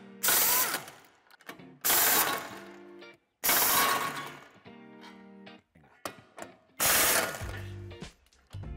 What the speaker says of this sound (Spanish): Ahora nos falta quitar el refuerzo metálico que va sujeto con 3 tornillos en este lado y 4 en el otro.